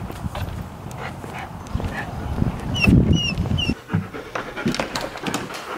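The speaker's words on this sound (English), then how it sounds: "the dogs are hot and panting." Dogs pant rapidly and steadily up close, with a few faint honking bird calls in the background.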